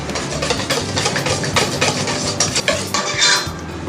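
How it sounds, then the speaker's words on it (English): Yorkshire pudding batter being mixed in a bowl after salt is added, with brisk, steady whisking and scraping, irregular clinks of the utensil against the bowl, close and fairly loud, no talking. "Let's mix."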